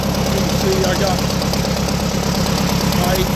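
A 1934 Allis-Chalmers M crawler tractor engine with a new carburetor float runs loud and close in a steady, throbbing idle, with someone briefly speaking over it.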